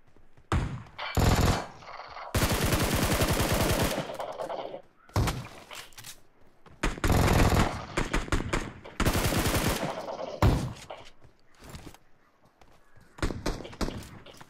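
Shotgun gunfire in the mobile game BGMI: loud bursts of rapid shots in several separate volleys, with shorter single blasts between them and gaps of quiet.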